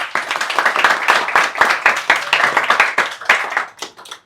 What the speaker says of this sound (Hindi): एक बार जोरदार तालियां भाई के लिए